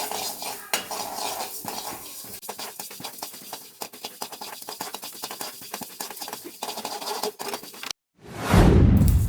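Seeds of fenugreek, cumin, black pepper and mustard dry roasting in a kadai, with a spoon scraping and clinking against the metal in a steady stirring rhythm, then a sudden louder hiss and crackle near the end.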